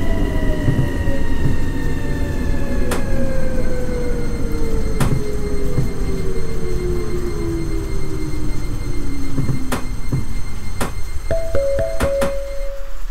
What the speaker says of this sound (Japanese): まもなく2番線を電車が通過します。